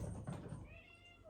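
A house cat gives a short meow indoors, close and faint, with a rising-then-falling tone after some low rustling.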